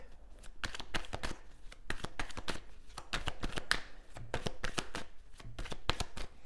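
Tarot cards are shuffled close up in a long run of crisp, rapid riffles and slaps, soft and continuous with no voices.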